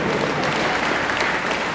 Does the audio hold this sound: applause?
yes